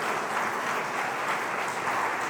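Steady applause from a crowd, a dense even patter of many hands clapping at a moderate, constant level with no voices.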